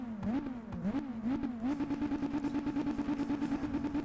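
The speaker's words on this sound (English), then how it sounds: "The engine sounds actually surprised me. They're pretty good." A Volvo S60 engine in Volvo The Game revs up and down in quick blips while idling at the start of a race, then settles into a steady, pulsing drone.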